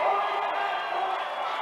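Crowd at a 1993 women's basketball game in Wichita cheering and roaring, a dense sustained wash of many voices filling the arena, steady throughout.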